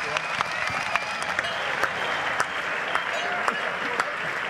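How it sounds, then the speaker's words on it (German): Dense, steady crowd applause at an outdoor Swiss wrestling and alpine festival in Einsiedeln honoring the winner, with sharp individual claps standing out from the continuous wash. "Und ich denke, es ist noch ein riesen Applaus wert."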